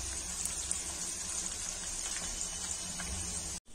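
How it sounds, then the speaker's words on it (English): Green chillies and curry leaves frying in hot oil for onion pakodi, a faint, even hiss of sizzling that runs steadily throughout and cuts out abruptly just before the end. "green mirchi, curry leaves. Just fry in the oil."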